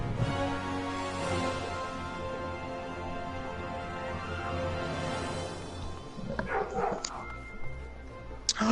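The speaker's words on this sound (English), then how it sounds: "I hear a dog!" A dog barks and yips over a steady tonal background, with short sharp bursts clustered near the end, moderately close.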